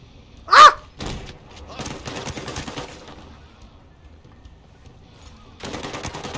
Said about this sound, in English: This gun is insane.